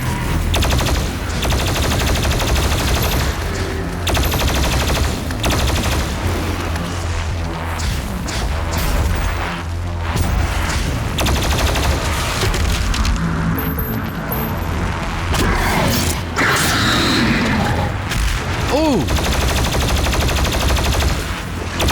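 Plasma rifle fire in Doom Eternal on Nightmare difficulty, a relentless rapid stream of loud energy shots over a dense, busy combat mix that runs without pause, with explosions and impacts layered throughout.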